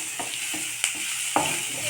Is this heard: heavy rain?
no